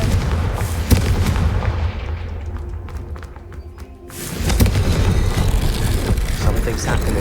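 A Confringo blasting spell explodes in the Hogwarts Legacy video game, a loud booming burst with a dense rumbling tail that dips briefly and then swells back into sustained, busy combat noise.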